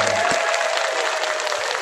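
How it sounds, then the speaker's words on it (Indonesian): Applause for early childhood education (PAUD) at an official gathering led by the acting regent of Nganjuk, a steady wash of many clapping hands filling the room at close range, with no break across the short stretch. "Tepuk tangan dulu untuk PAUD."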